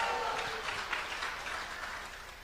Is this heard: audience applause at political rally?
yes